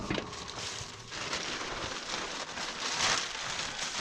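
Steady rain falling outdoors on a job site where seed is being mudded in, a soft continuous hiss with scattered droplet patter, fairly faint and swelling slightly toward the end, with no voices.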